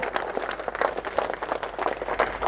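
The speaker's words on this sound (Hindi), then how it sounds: "एक बार दोनों हाथ करके जोरदार तालियां होनी चाहिए।" Loud applause from an audience clapping hands together at a company meeting, a dense steady patter of many hands lasting throughout.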